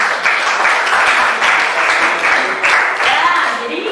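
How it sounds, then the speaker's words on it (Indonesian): Classroom children clapping for a pupil, loud dense rhythmic clapping throughout, with a brief burst of voices over it near the end. "tepuk tangan buat Desma."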